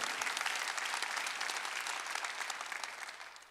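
A church congregation at a Sunday worship service bursts into applause, a dense, even wash of many hands clapping that holds for a few seconds and then begins to thin and fade.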